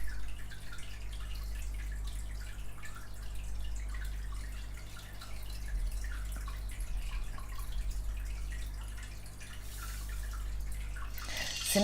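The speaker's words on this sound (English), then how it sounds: "the lids are both open on them, so if you can hear water, that's why" Soft continuous trickle and drip of water from open fish tanks over a steady low hum, faint and constant throughout.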